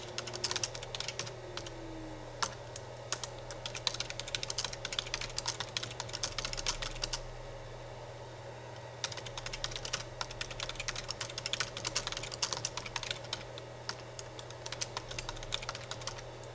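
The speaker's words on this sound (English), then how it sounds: "let's type a very simple message." Close, quiet typing on a computer keyboard, rapid irregular key clicks in two runs with a short pause between them, over a faint steady hum.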